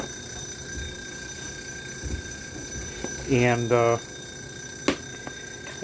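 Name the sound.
ringing in the kitchen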